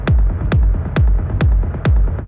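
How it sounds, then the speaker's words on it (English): Master-level techno rumble synth, with five kicks in steady rhythm wrapped in a thick, textured, pulsing low-end rumble that carries brighter grit above it and swells between hits, loud with no talk. "Techno rumbles are an essential part of the genre, and they are the thing that fills up the space between kick drums."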